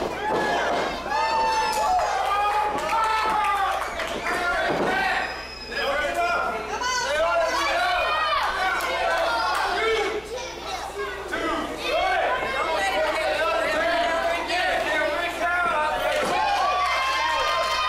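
A wrestling show crowd cheers and chatters throughout, a lively roomful of voices rising and falling, with a commentator talking over the noise.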